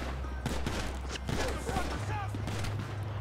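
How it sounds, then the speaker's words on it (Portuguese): Rapid gunfire rattles back and forth between police and a gang in GTA 5, dense repeated shots over a low game drone, with a player's voice talking over them. "Eles estão trocando tiro com os bandidos."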